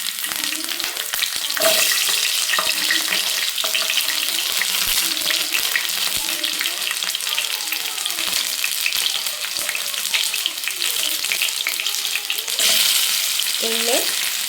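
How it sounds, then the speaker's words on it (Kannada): Native onions hit hot oil with a sustained, loud crackling sizzle that carries on evenly, broken by a few soft utensil knocks and scrapes. "ನಾನು ಇದು ಎಣ್ಣೆ ಕಾದಿದೆ. ಈಗ ನಾಟಿ ಈರುಳ್ಳಿ ಹಾಕ್ಕೊತಾ ಇದ್ದೀನಿ."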